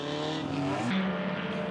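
Vintage MG and Austin Healey race cars on a track at a handicapped club race, engines loud and close, with a rising note that shifts pitch sharply as a car passes or changes gear.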